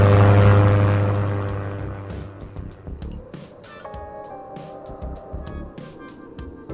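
Aircraft flyby in a survival video game on Misery hardcore difficulty: a loud propeller engine drone passes and fades, followed by a string of sharp clicks and tones.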